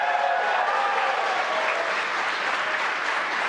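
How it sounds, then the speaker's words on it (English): SpaceX employees gathered around the Mission Control Center at headquarters cheer and clap as the Crew Dragon capsule splashes down, a dense, steady wash of applause from a sizable group, fairly loud and continuous throughout. "You can hear cheering here at SpaceX headquarters as the employees that have gathered around our Mission Control Center are sharing the same view as you."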